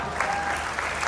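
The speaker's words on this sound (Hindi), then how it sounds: "और आपकी तालियां अब उठेंगी" Brief burst of audience applause at a Hindi satirical poetry recital, a dense steady patter of clapping lasting about a second, with no clear speech over it.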